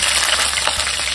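Garlic crackling and spitting as it fries in hot oil for radish dal, a steady close sizzle with small pops throughout and no voices.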